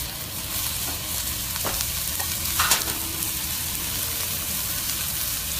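Bacon-wrapped chicken bites in a pan sizzle loudly and steadily as barbecue sauce hits the heat, a dense close crackle with a faint clink near the middle and no talk.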